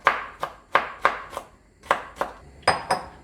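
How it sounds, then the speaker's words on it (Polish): A knife chops cucumber into small cubes on a cutting board, about a dozen crisp, evenly spaced knocks close up, with a brief pause midway; no one talks. "przekrajam go na kilka części wzdłuż i kroję w nie za dużą kostkę"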